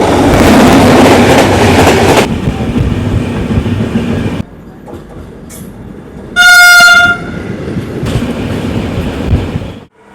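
The Falaknuma Express train from Howrah to Hyderabad rumbles loudly past at Bangaon Junction in the early morning, its wheels clattering before a single long blare of the horn, then the rolling noise returns.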